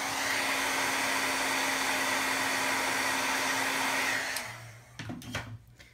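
A craft heat tool blows steadily for about four seconds, melting white embossing powder on a card, a loud whirring hiss that cuts off and is followed by a few light handling taps.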